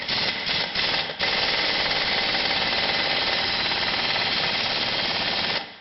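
A pneumatic air impact gun hammers at a 16 mm main hub bolt on a Camoplast Tatou 4S ATV/UTV track system, with a few short stuttering bursts followed by one long, loud, continuous rattling run, close up and with no voices.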